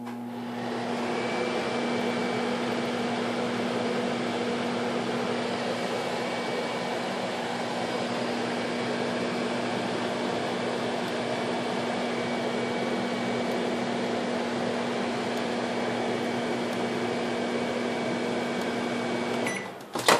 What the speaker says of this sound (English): you can stick it in the microwave for 20 seconds or so